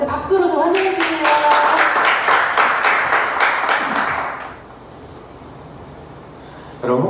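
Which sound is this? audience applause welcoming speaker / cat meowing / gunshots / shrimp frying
audience applause welcoming speaker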